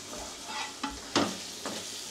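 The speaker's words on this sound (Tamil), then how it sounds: "அப்பப்போ லைட்டாக கொஞ்சம் எடுத்து கிளறி விட்டுக்குவோம், கிண்டி விட்டுக்குவோம்" A spoon stirring curry masala and tomato frying in a pan, a steady sizzle with a few distinct scraping strokes, close and without talk.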